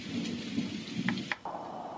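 Recorded rain and thunder played as a nature-sound track from a white-noise sound machine: steady hissing rainfall with a couple of brief thunder rumbles, fairly loud and unbroken, with no talking.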